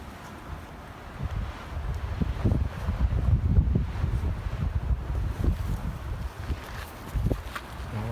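Strong wind buffets the microphone at the Grand Canyon, a steady low roar with gusting swells and rumbling bursts throughout, loud and close with no clear speech.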